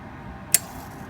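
A single sharp click as a Sporlan solenoid water valve switches on, filling fresh water tanks; one brief distinct tick over a quiet background hum.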